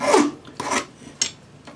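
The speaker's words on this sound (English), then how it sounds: "if you scrub it sideways as you file, it'll eliminate all those little ripples" A ring file scrubbed sideways across a metal ring, giving short dry rasping strokes: two strong scrapes, then two fainter ones, close and alone.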